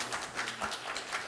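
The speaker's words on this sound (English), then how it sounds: "Give her a little round of applause for all her support." Audience applause at an investigative journalism prize ceremony in Belize, a steady dense patter of many hands clapping, moderately loud and sustained for the whole moment.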